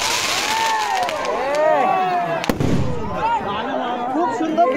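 Fireworks and firecrackers burst one after another at a village fireworks festival on New Year's Eve, with whistling rockets, crackling pops and one sharp loud bang amid a continuous noisy din, while people talk and shout.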